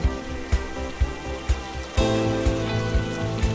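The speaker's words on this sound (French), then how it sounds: "Une averse de faible ou de grande intensité ne pose aucun problème au SunRain." Rain drums steadily on a SunRain retractable awning, a dense patter with regular heavier thuds of dripping water about every half second.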